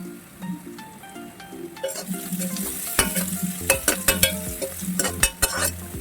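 Onions sautéing in a pan for a home-style channa masala: steady close sizzling and frying hiss with repeated scraping and clinking of a spatula stirring against the pan, growing busier toward the end, with no voices.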